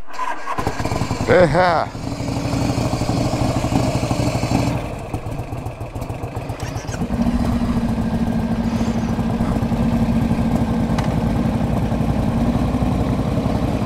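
A 1984 Harley-Davidson FLT Tour Glide motorcycle cranks and fires, then settles into a steady, loud idle close by, with a person speaking briefly over the running engine.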